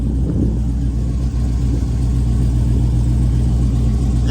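Cammed Jeep SRT driving, a deep steady engine rumble with a loping low throb, loud and continuous from inside the vehicle, with no voices.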